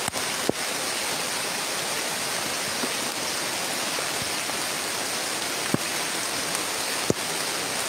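Steady rain hisses down across the whole stretch, broadband and even, with a few sharp drip or tap transients punctuating it; no voices.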